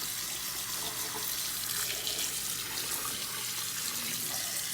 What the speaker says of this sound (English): Go ahead and fill it up with water as well.